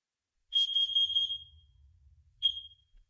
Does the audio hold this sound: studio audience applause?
no